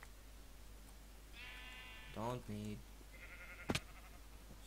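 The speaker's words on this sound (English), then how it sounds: "Screw you, sheep." Sheep bleating in the modded Minecraft pack Hexxit, a couple of short, close, nasal bleats in the game world, with someone speaking briefly and quietly over them.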